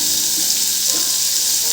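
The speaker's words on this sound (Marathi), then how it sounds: "कांदा आपला आता थोडासा भाजत आलाय, कांदा आपला आता थोडासा लाल होत आलाय।" Onion frying in a pan for a Marathi sukat dish, a steady close sizzle with no break.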